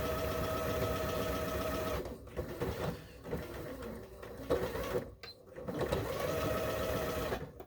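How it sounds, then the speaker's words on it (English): Sewing machine running in steady bursts to stitch a placemat seam closed, overlapping the earlier stitching; a loud continuous motor hum pauses briefly several times, with small clicks between runs. "we're going to sew those together to finish off that seam"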